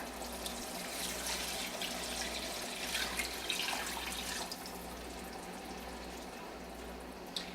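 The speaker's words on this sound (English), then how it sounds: "We're going to go ahead and add in the chicken stock." Chicken stock pours steadily into a stovetop pot of spiced lentil burrito filling seasoned with salt and cayenne, a continuous close splashing flow with small surges and drips, and no one talking.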